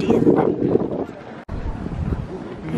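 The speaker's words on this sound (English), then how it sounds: "It's a bit windy," Wind buffets the microphone on a city street in Krakow in February, a steady low rumbling roar that drops out briefly midway, with faint voices in the background.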